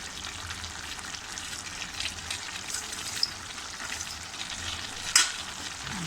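Chicken keema with coriander stirred in a pan, a steady low sizzle and frying crackle with soft scraping of the spoon and one sharp clink near the end, no talking.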